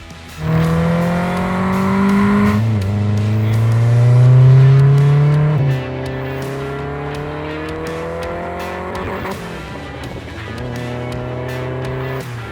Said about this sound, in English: this is my custom modified turbo Corolla wagon